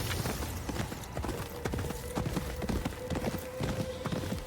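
Horse hooves clip-clop steadily in the video game Ghost of Yotei, a rapid, even rhythm of close thuds over a dense wash of background noise, with a faint tonal hum partway through.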